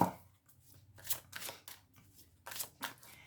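Tarot cards shuffled by hand in quick riffling bursts, several crisp papery flurries separated by short pauses, close and fairly quiet with no talking.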